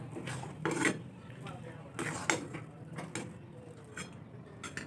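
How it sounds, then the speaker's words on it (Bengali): Potato filling for stuffed chilli fritters stirred and dry-fried in a pan, with sharp clinks and scrapes of a spoon against metal at irregular intervals, close and fairly quiet, no talking. "আমি শুকনো শুকনো করে আলুটা কষে নিচ্ছি।"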